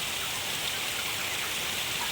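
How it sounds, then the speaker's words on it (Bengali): Rain drums steadily on the roof of a poultry shed with an extended side roof, an even, moderately loud wash of drops with no voices. "এই দিক থেকে বৃষ্টিটা মারছে, কিন্তু জল কিন্তু ঢুকছে না"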